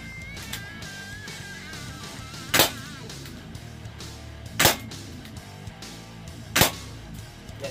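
UA941 spring airsoft revolver firing 0.12 g BBs into a can, three sharp loud snapping shots evenly spaced about two seconds apart, close by, with a faint hum between them and no talk.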